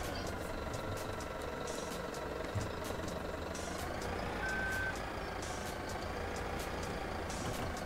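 A truck in a farming simulator game reverses with a rapid, regular series of reversing beeps over a constant engine drone, steady and moderately faint throughout.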